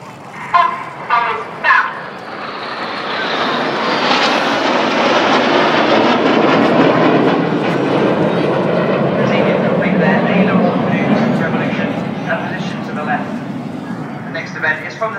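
Red Arrows jets roar past at the Farnborough International Airshow, building into a loud, sustained rushing jet noise that swells and fades over several seconds while an announcer's voice is heard at the start.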